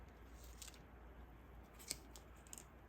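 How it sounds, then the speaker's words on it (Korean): Scissors snip metallic cord yarn while finishing a crocheted net bag, a few quiet, crisp clicks and one sharper cut close by in a hushed room. "가위로 마무리."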